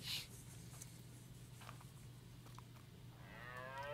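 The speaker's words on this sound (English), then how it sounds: "This goddamn cow right here already?" A cow moos clearly in the survival video game Ark, a low sustained bellow over a steady mechanical hum, fairly close and alone without talk.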